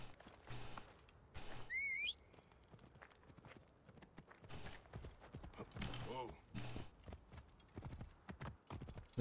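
Horse hooves clip-clop in the Assassin's Creed Origins video game, rhythmic thuds near and fairly loud alongside whistle-like game effects, with someone speaking Polish over parts of the scene.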